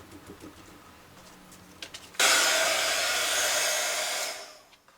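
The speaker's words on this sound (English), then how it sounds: "sprinkle that with some silver embossing powder and heat set it" A heat gun blasts on abruptly and runs as a loud, steady hot-air roar for about two seconds to melt silver embossing powder on a watercolour flower card, then tapers off.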